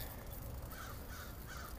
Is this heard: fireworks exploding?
no